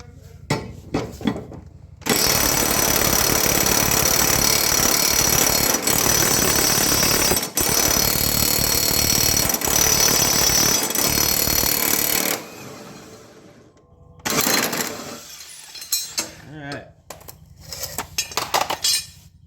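An impact wrench with a 15/16 impact socket loosening a worn mower blade, first a long continuous loud rattling hammer of about ten seconds, then a pause and several shorter bursts with metallic clinks.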